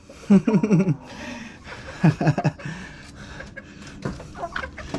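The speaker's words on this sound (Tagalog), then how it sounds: "Dalawang brood hen natin yung nangingitlog sa isang pugad." Two brood hens on a shared egg nest give soft, close clucks and throaty chortles in short bursts, with quieter murmuring in between.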